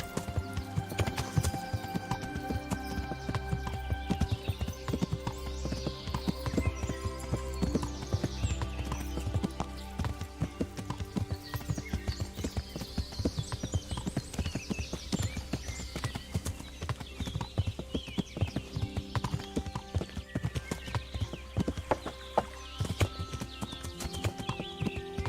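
Horse hooves clip-clopping at a steady trot while riding in the medieval video game Kingdom Come: Deliverance, rhythmic and close, with occasional whinnies over a continuous game soundtrack.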